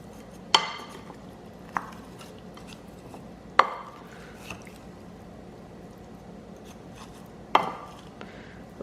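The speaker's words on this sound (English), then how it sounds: "I'm going to use a wooden spoon to stir this up." Chicken wings for spicy lemon pepper keto wings stirred with a wooden spoon, a few sharp scraping knocks and soft squishy shifts spaced several seconds apart over a quiet background.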